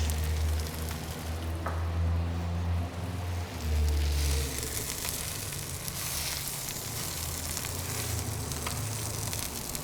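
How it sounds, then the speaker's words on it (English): Spinach with a generous amount of garlic and a little salt sautéing on a hot soapstone, a steady dense sizzle and crackle close up, constant throughout with a low rumble underneath and no talking. "Sauteed spinach on the soapstone."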